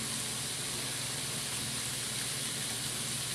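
A beef stir-fry for ramen sizzles in a hot pan as it is stirred and flipped, giving a steady, even hiss that runs unbroken throughout, with no talking.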